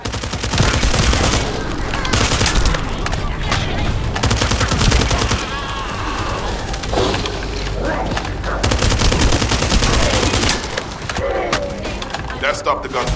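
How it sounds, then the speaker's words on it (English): Rapid automatic gunfire bursts in The First Descendant video game, dense and loud, with repeated volleys over several seconds and scattered mechanical clatter mixed in. "That stopped the gunfire."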